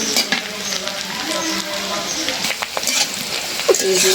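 Onion, garlic and green chili sizzling in a pan for a breakfast dish, with a continuous close frying crackle, occasional stirring scrapes, and a voice speaking over it.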